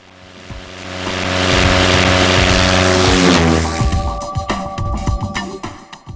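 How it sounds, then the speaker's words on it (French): A propeller tow plane engine roars steadily as it pulls a glider into the mountains, building to a loud sustained drone with a shifting pitch near the middle, then settling into a rougher, fluctuating hum. "l'avion remorqueur réanime de son souffle puissant le planeur qu'on lui a confié"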